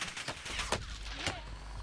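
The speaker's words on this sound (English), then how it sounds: "I'm getting shot from every direction" Gunfire in the Warzone video game: several sharp bursts of shots crack out in quick succession over a busy background of game noise, loud and close, with no one speaking.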